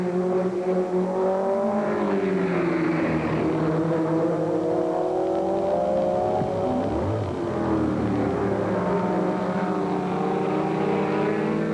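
1950s race cars speeding around a track at high speed, loud sustained engine drones with shifting, rising and falling pitch as they pass, continuous and close throughout.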